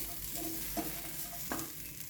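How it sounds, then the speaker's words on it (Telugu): Carrot, tomato, sprouts and green chilli fry lightly in a pan, a soft low sizzle with two brief stirring scrapes of a spoon, quiet and close. "క్యారెట్, కొంచెం టమాటో, కొన్ని స్ప్రౌట్స్, కొంచెం పచ్చిమిర్చి, వీటిని లైట్గా వేయించుకుందాం"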